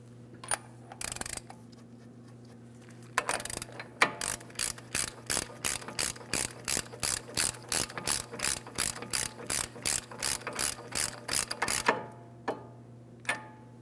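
A hand ratchet snugs the front axle nut on a 2003-2008 Toyota Matrix during a wheel bearing and hub replacement, a long run of sharp, evenly spaced clicks close by after a few scattered clunks, with no talking.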